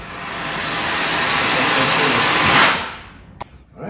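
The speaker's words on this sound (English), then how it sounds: "there is a little floor vacuum here" Central vacuum floor inlet in a home kitchen roaring with a loud, steady broadband whoosh that builds for a few seconds, then cuts off abruptly, leaving a faint room tail and a single click.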